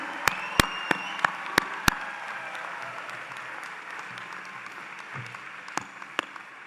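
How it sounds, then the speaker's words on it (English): An audience at the University of Illinois Chicago College of Pharmacy spring commencement applauds the new graduates: a few sharp, distinct claps up front, then thinner, quieter scattered clapping that fades into the large hall. "Can I have one more round of applause for all the new graduates?"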